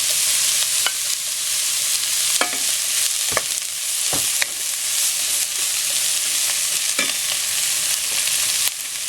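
Carrot, chicken and pork sauté in a pan for macaroni soup, a dense continuous sizzle punctuated by repeated spatula clacks and scraping stirs at irregular intervals.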